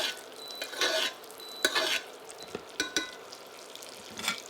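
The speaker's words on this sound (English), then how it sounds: "And again, we just want to baste." A steak basted with browning butter and rosemary in a hot pan, a loud crackling sizzle swelling in several bursts as the spoon pours butter over the meat, with clinks of the spoon against the pan between them.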